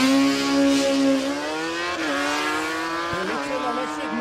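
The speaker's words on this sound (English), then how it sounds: "Electric motorcycle. Can't even call it a motorcycle. It's an electric cycle." A small Surron Evolution electric motorcycle makes a drag-strip run at Warwick Dragway, Australia, its motor whine rising and sliding in pitch across the run while a commentator talks over it.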